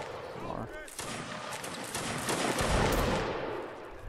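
Musket volleys crackle in Mount & Blade: Warband, rolling overlapping gunfire of many muskets at middle distance, with voices speaking over it.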